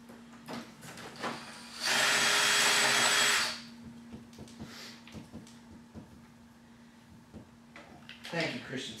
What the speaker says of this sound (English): we're going to run this half-inch paddle